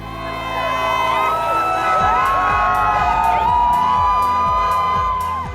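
A large crowd cheers, whoops and yells in the streets of downtown Toronto near Yonge and Dundas, loud and close, with overlapping shouts and car horns layered through the dense roar.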